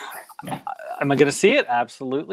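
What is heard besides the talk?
dog barking and whimpering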